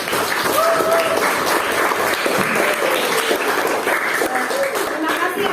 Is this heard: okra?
no